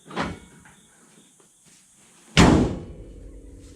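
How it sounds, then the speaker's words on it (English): A heavy metal slam from the hood of a 1972 Chevrolet C10 shutting, one loud close impact with a brief rattling decay, after a softer clunk earlier. "I hate slamming hoods."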